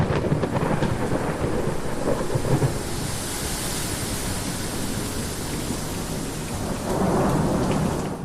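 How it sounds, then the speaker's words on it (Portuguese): Thunderstorm on a mountainside, with heavy rain hissing steadily throughout and deep thunder rumbling loud and close, swelling again near the end; no voices. "Raios eletrificaram o ar e trovões ecoaram tão alto que parecia como se a montanha fosse ser partida em duas."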